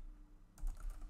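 Keys struck on a computer keyboard while entering shell commands, a short burst of several close, light clicks after a moment of quiet.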